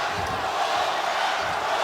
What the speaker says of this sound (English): Crowd starting to chant here as we come to the end of 8 and head towards those championship rounds